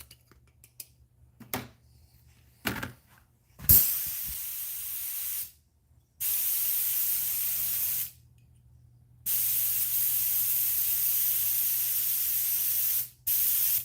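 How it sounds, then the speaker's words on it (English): An airbrush being cleaned out sprays in long hissing bursts of roughly two to four seconds, separated by silent pauses, after a few small clicks and taps of handling at the start; close and alone, no speech. "just getting this airbrush cleaned out"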